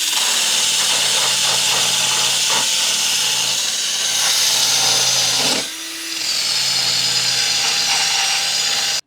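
A battery-powered drill whirs steadily and loudly for several seconds on a storm-damaged 2CV, briefly dipping in pitch and power around the middle before picking back up, with no voices over it.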